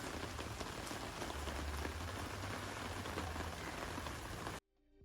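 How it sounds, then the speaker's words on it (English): Rain drops hitting an outdoor market table, a dense close patter of drops on the surface that holds steady, then cuts off abruptly near the end. "it then started raining. Here, a few drops hit my table"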